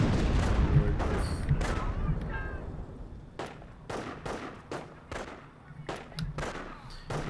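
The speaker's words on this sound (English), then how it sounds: "Howitzer barrage is again going to go a little far" A howitzer barrage in the World War II strategy game Company of Heroes lands as a series of sharp, booming impacts at irregular intervals, loud and close with rumbling decay between hits.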